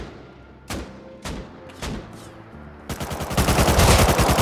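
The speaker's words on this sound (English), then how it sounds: "He just shot at me." Gunfire in the video game Rust: three separate sharp single shots spaced about half a second apart, then a rapid automatic burst of loud fire that continues to the end.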